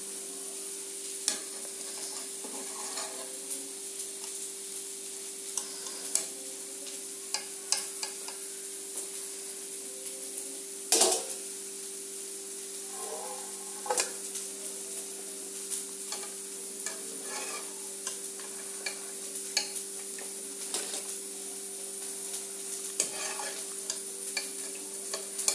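Boiled macaroni is scooped with a slotted ladle into a steel bowl in a kitchen, giving scattered clinks, scrapes and wet shuffles over a steady background hum, with no talking.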